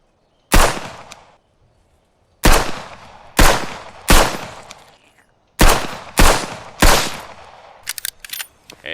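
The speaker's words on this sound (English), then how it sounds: "Alright, here's some more crabs. I'm gonna shoot them." Gunfire in Outbreak Island aimed at crabs: a series of sharp, loud single shots spaced irregularly, each with a short decaying tail, ending in a quicker cluster of smaller bangs.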